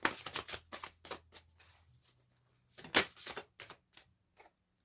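Cards being drawn from a deck during a spirit reading, a series of quick papery snaps and slides, close and fairly soft, in two short flurries with a faint low hum underneath.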